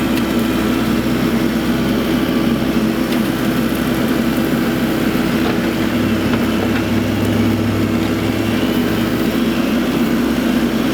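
A tractor carrying a TrailBlazer TB-Flex loader-mounted mower drives back and forth across a field, its engine droning loud and steady, with a mower whine running beneath it.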